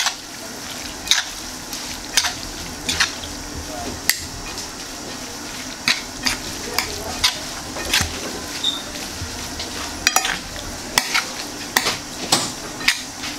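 Spoon scraping and clinking against a pot while seffa vermicelli is stirred with salt, a steady series of sharp metallic taps and scrapes roughly every second over a soft background hiss.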